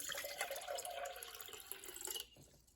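Faint water pouring, one cup measured out for homemade lemon cough syrup, a soft continuous trickle that splashes lightly and stops near the end.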